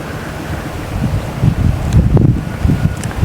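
Wind blows outdoors across rice fields at harvest time, a steady rumbling gust that buffets the microphone with fluctuating low roar and no talk.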